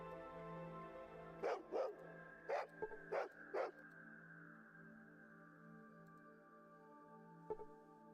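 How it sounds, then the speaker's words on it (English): A dog in the video game Fallout 2 barks five times in a quick, uneven burst, then once more after a pause, over a quiet sustained tonal hum. "there's the dog"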